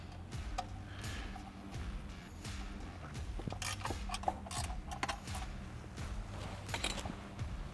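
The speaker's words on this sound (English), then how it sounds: "Just using a ratchet wrench works best." A ratchet wrench clicks rapidly in repeated short runs while removing 8mm screws from the ignition coil cover of a C8 Z06, close and fairly quiet, with a few metallic taps between.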